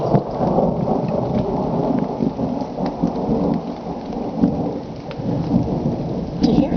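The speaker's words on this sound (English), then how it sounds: "I hear the thunder in the distance." Distant thunder rolls through a rainstorm, a steady wash of rain and low rumbling that swells and fades continuously, with no talking.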